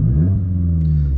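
A Vauxhall Corsa engine with a throttle controller fitted, revving loud and close as a steady low rumble that builds briefly and holds.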